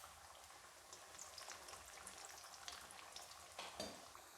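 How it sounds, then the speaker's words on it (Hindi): Sweet tikiya frying in lightly heated oil over a slow to medium flame, a soft, steady crackle running throughout, fairly faint, with a slightly louder bubbling burst near the end and no voices. "स्लो से मीडियम पे हम इनको फ्राई करेंगे।"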